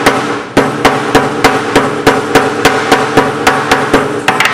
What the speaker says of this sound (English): You just take this coating, just take your hammer and just kind of